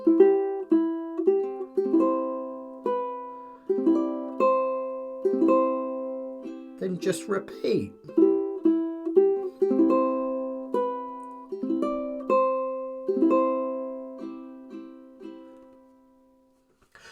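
Fingerstyle ukulele plays the repeating mantra section of a song, clear plucked notes and chords ringing in a steady gentle rhythm, close and alone, with a short rustle midway before the phrase repeats and fades out.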